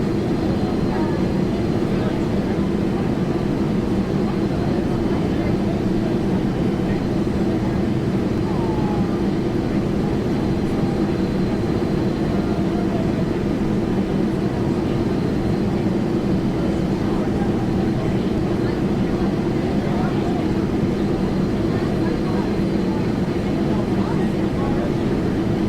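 An airplane on final approach to land on runway 28 right in a flight simulator game gives off a steady, unbroken engine drone with a low rumble that holds at an even level throughout.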